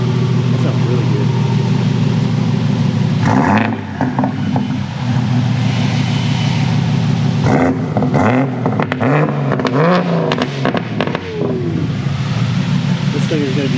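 A 1992 BMW M3 engine breathing through a 4-inch exhaust hums at a steady loud idle, with a few sharp blips and revs breaking in near the middle and a voice talking over it.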